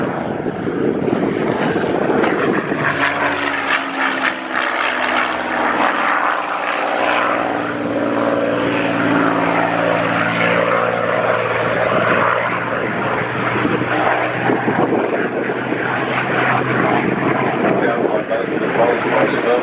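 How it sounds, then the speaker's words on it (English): A Supermarine Spitfire with a Rolls-Royce Griffon engine flies past at an air show, a loud droning propeller roar that swells and holds, with a commentator talking over it. "And the Rolls-Royce Griffin engine, which strangely enough rotated in different directions."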